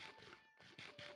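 A cat in the Minecraft video game meows several times in quick succession, short bright calls with brief gaps, heard close and fairly quiet.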